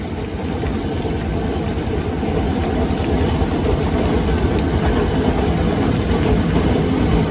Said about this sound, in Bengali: ওই যে দূরে দেখুন ট্রেন যাচ্ছে